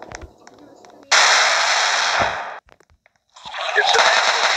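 Bursts of automatic gunfire in a video game, a long sustained burst followed by a pause and then another loud burst, with scattered shorter shots before it.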